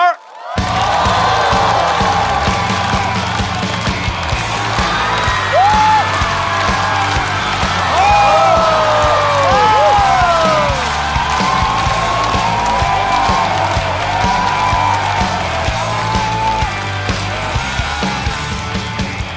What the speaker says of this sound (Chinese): 让我们欢迎这位喜欢坐在角落的人，掌声有请海源。